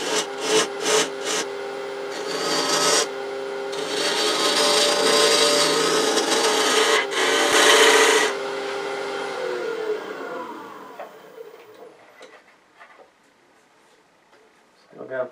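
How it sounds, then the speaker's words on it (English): Spindle gouge cutting Australian mallee burl on a wood lathe, a loud continuous rasping scrape with brief sharp bursts at the start, fading out toward the end. "using the large spindle gouge on is I can get in there and make that tenon"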